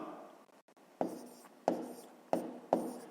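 Pen scratching a maths solution by hand on paper, a quiet close series of short strokes with four sharper taps as digits are marked, no voices.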